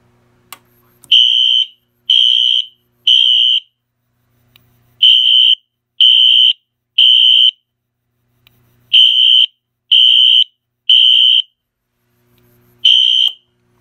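Loud electronic fire alarm horn sounding in repeated groups of three pulses during a drill test, with short pauses between the groups, in an otherwise quiet room.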